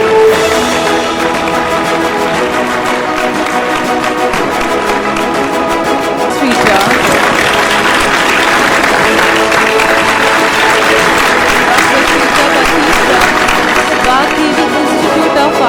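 Sustained applause from an award ceremony audience, continuous dense clapping that swells louder about halfway through, with a host's voice over it.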